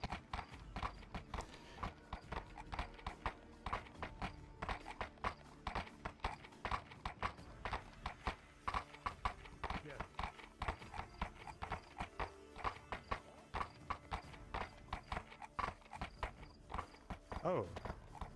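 Horse hooves clip-clop steadily in a game world, a continuous run of close, even hoof beats with talk over them.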